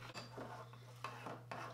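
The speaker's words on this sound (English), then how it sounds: "right before you bake your cereal, you want to stir it" A spoon stirs cereal with raisins in a bowl, producing a few soft scrapes and light clinks against the dish, faint and close over a low steady hum.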